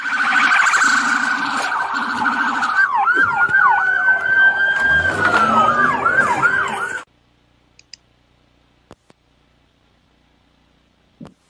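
Wailing and yelping sirens from police pursuing a stolen ambulance at night, loud and continuous with rising and falling sweeps over traffic rumble for about seven seconds, then cutting off abruptly into near silence broken by a few faint clicks.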